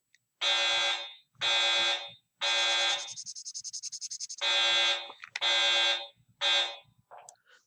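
Loud fire alarm sounding in a classroom, repeated long harsh blasts broken by a rapid pulsing stretch, then cutting off near the end.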